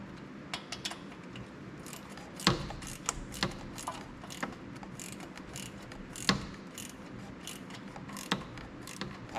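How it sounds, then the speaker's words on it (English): Ratchet tightening small bolts on a Bad Boy Maverick zero-turn mower deck, with repeated clicking pawl strokes and a few louder sharp clicks, close and steady with no talking. "And I'll tighten it down with a ratchet."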